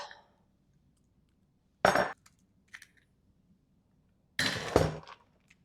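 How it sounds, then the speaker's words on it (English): Eggs cracked one at a time into a bowl for a chocolate and butterscotch cake: two sharp, close cracking knocks with short splats, plus faint clinks in between, in a quiet kitchen. "I'm going to crack them separate just in case and get them in here."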